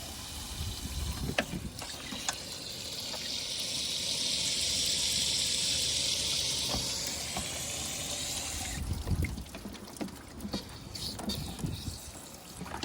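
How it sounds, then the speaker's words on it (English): Water pours over the filters of an air conditioning unit being serviced, a steady hissing wash that swells in the middle and then breaks into lighter splashing and trickling. "As the water comes down over the top, it drips equally and evenly over all of the filters."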